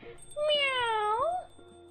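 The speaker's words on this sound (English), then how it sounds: "If I'm not mistaken, this is a local cat." A cat in the video game Coffee Talk gives one drawn-out meow with a rising then falling pitch, close and clear over a quiet background, lasting about a second.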